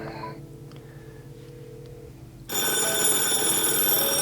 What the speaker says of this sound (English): Now listen for the ring.